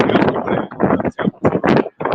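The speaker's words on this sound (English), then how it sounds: "You see out here, it's windy." Strong outdoor wind buffeting the microphone in loud, close gusts that surge and drop off in uneven bursts with brief lulls between.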